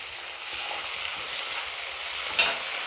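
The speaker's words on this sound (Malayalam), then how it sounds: "നമ്മുടെ ചെറിയുള്ളിയൊക്കെ നന്നായിട്ട് വഴന്ന് വരുന്നുണ്ട് കേട്ടോ ഈ സമയത്ത് നമുക്ക് നമ്മുടെ തക്കാളി ഒന്ന് ഇട്ട് കൊടുക്കണേ" Shallots and chopped tomatoes sauté in a pan for a Kuttanadan toddy-shop liver fry, giving a steady close sizzle with a soft stir or clink near the end.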